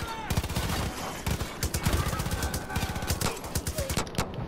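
Rapid bursts of assault rifle fire in the video game Far Cry 5, loud and continuous with repeated sharp shots, with a voice speaking over part of it.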